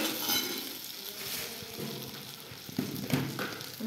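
Green chillies with a little lemon frying in a pan for a Maharashtrian stuffed-chilli dish, a continuous close sizzle with scraping stir and light utensil knocks near the end, no voices.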